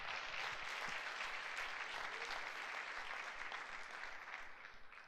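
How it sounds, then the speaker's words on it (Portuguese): A church congregation applauds for about five seconds, a dense, steady wash of many hands clapping together that holds loud throughout and eases slightly near the end, with no talk over it. "Dê um aplauso ao Senhor Jesus."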